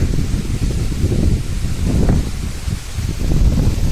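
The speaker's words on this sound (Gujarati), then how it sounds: "જો ટાણતા પવન છે." Wind blowing steadily outdoors, a continuous low rumbling roar with gusty swells, buffeting the microphone throughout and alone with no talk.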